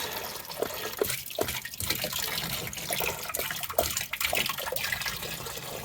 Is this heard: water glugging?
yes